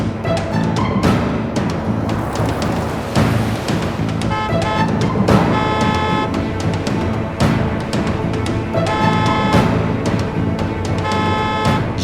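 A taxi driving through traffic with horns honking, loud continuous road and engine rumble broken by repeated car horn blasts from several vehicles.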